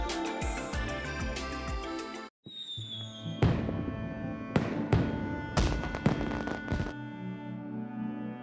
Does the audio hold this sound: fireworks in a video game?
yes